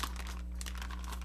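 Stiff, rock-solid bath bomb cupcake frosting being peeled up, giving close crinkling and crackling bursts over a steady low mains hum, with no talking.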